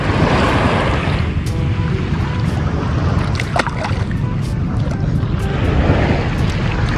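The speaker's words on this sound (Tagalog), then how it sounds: "Nalaki na pala yung alon" Big ocean waves surging around swimmers, a steady broad roaring wash with wind buffeting the microphone and no break in the noise.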